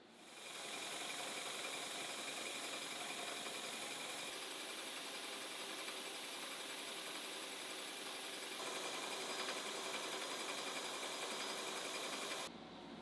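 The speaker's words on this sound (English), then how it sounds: "so I'll need to bust out the heavy artillery. My massive fly cutter." A large fly cutter with a counterweight and sharp insert mills a metal part, giving a steady, loud machining drone with a faint rattle that holds evenly for about twelve seconds before cutting off.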